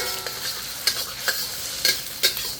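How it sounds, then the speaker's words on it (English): Thai fried rice with pineapple, basil and cashews sizzles in a pan under a steady frying hiss, broken by four or five sharp scrapes and clacks of the spatula stirring it, with no voices. "Now see how you got the natural stir fry?"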